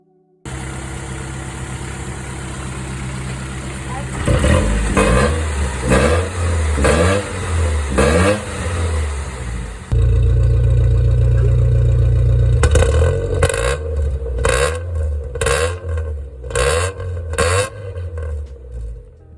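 A Nissan Sentra engine idling with a steady low rumble, then repeatedly revving in sharp bursts; the idle grows louder midway before more short revs follow.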